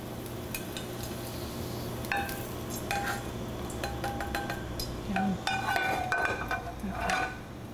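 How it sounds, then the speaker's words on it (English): Garlic is stirred around a dry pan with no oil, a utensil scraping and clinking against the metal in irregular taps over a faint low sizzle, fairly quiet and close. "I don't add the oil, I just add the garlic."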